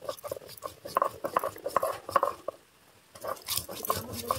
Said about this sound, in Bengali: সর্ষে আর কাঁচা লঙ্কাটা বেটে নিচ্ছি।